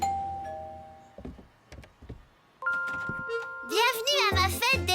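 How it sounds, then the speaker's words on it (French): A cartoon doorbell chimes in two bright tonal rings, the second leading into a burst of animated children's voices talking and squealing excitedly. "C'est moi qui appuie sur la sonnette."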